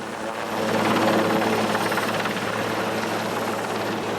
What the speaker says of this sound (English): the rigger connects them to the hooks dangling from the helicopter